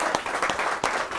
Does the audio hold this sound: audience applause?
yes